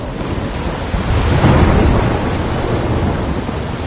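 A storm rages in the Life is Strange game, heavy rain hissing steadily with a rumbling swell of thunder building near the middle and rolling on, loud and close, with no voices.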